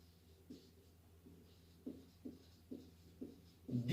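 Chalk or marker writing on a classroom board during a physics lesson, faint, soft taps and short strokes in an uneven rhythm, ending in a louder knock.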